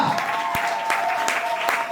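Congregation at a church service clapping together at the pastor's urging, loud dense applause with a few sharp accented claps standing out in a steady rhythm.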